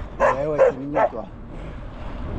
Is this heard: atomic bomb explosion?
no